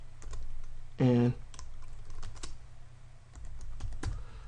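Login credentials being typed on a computer keyboard for a database connection: quick, irregular key clicks spread across a few seconds, close and fairly quiet, with one brief spoken word partway through.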